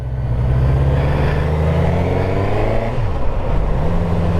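Suzuki GSX-S 1000 GT motorcycle engine pulling hard under throttle, a close, loud mid-pitched drone rising and dipping as revs change through the ride.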